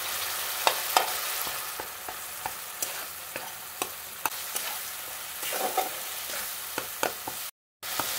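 Spice paste with tomato and a little water sautéing in a pan for a Bengali pumpkin-leaf ghonto, with a soft steady sizzle and repeated scraping taps of a spatula stirring, close and fairly quiet.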